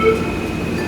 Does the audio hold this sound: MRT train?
yes